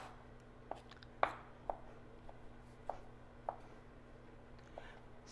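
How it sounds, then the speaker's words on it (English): A kitchen knife chops Little Smokies sausages into tiny pieces for stuffed bell peppers: a few sharp, separate taps on a cutting board at an uneven pace, fairly quiet and close, with no talking. "We want them tiny, so I'm just going to keep chopping them down."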